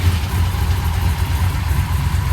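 A big block Mopar 500 cubic inch stroker engine idles steadily while warming up, a continuous deep low rumble with an even, throbbing pulse, close and loud with no talking.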